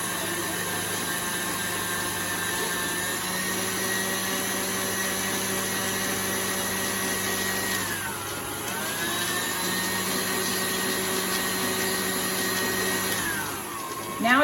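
An electric kitchen mixer whirs at a constant high-pitched hum while mixing a batter before the flour goes in, its motor pitch dipping briefly twice and then recovering, close by and steady.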